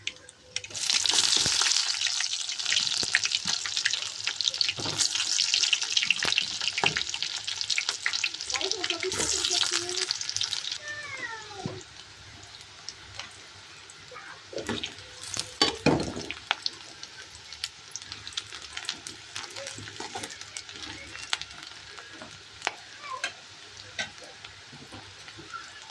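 Onions fry with tempering spices in hot oil, starting with a loud, crackling sizzle that settles into a steadier hiss. Scattered clatters and scraping from stirring break through now and then, and no one speaks.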